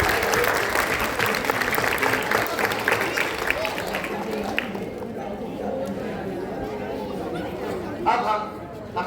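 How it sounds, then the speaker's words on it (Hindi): An audience claps at a Republic Day celebration, dense applause starting loud and thinning out over several seconds amid crowd chatter, with a brief louder burst near the end. "ठोको ताली।"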